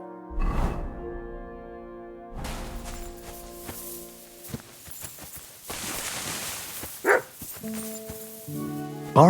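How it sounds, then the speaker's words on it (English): Dog barking in the medieval video game Kingdom Come: Deliverance 2, sharp scattered barks and yips amid footsteps and game ambience, with a few louder bursts near the end. "Barking."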